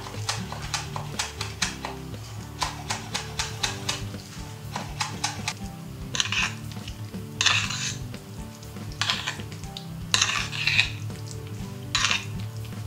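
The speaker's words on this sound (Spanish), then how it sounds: "Picamos el cebollino." Chives are chopped on a cutting board with a rapid, even series of knife taps at close range, broken by a few louder scraping strokes. Faint music plays underneath.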